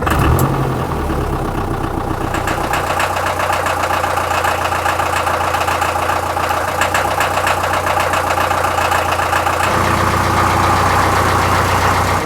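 A vintage car engine runs steadily and loudly nearby, a continuous rumbling drone with a rhythmic knock and slight shifts in pitch, heard alone.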